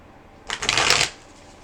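A deck of tarot cards being shuffled, a single short riffling burst of about half a second, close and crisp against a quiet background.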